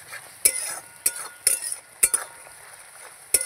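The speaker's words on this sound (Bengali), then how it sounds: "এই যে মশলাটা দিয়ে আমি নাড়ছি।" A spoon stirs spice masala being fried down in a cooking pan, giving several sharp metallic clinks and scrapes at irregular intervals over a faint background sizzle.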